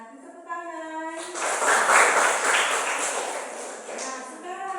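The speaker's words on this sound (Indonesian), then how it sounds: "Tepuk tangan." Group of people clapping hands together during an energetic class activity, a dense burst of applause swelling for a few seconds between stretches of talking.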